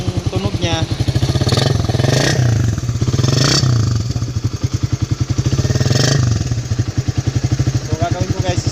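Suzuki Raider 150 with its stock pipe divider removed, idling and revving close by with a rapid popping exhaust pulse and several throttle blips rising and falling, while someone talks over it.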